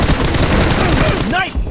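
Rapid gunfire in the BGMI mobile battle royale game, a dense burst of loud repeated shots filling the moment, with game voice audio mixed in and a brief electronic tone as it cuts off.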